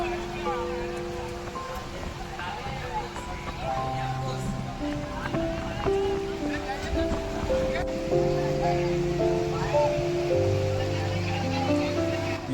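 Rough monsoon sea breaks at a jetty in Arnala, a fishing village near Mumbai, making a steady, washing roar. A talking voice and faint tonal sounds sit over it throughout.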